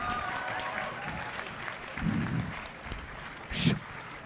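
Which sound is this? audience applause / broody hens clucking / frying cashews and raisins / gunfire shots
audience applause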